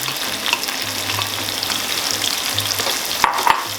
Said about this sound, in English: I'm just going to add in my onions.